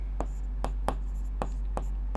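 Chalk or marker strokes on a board during a Class 10 maths lesson, five short, evenly spaced scratches over a steady low hum, close and fairly quiet.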